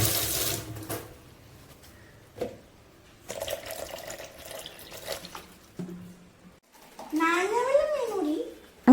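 A kitchen mixer blending lemon juice with water, giving short bursts of motor whirring separated by pauses, with clattering and voices talking nearby.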